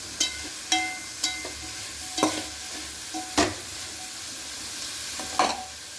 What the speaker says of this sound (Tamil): அதில் கொஞ்சம் உப்பு போடணும், அப்போ தான் சீக்கிரம் வெங்காயம் ஃப்ரை ஆகும்